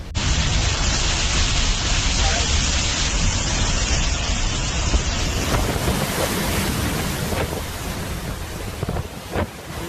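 Strong cyclone wind roars in a continuous heavy rush with driving rain showers during Cyclone Debbie, loud and unbroken buffeting across the whole stretch with no voices.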